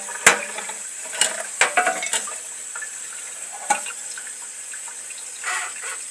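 Cold tap water running and splashing over cooked pasta in a sink, a steady broadband wash with a few sharper clinks and splashes near the start, close and moderately loud with no talking.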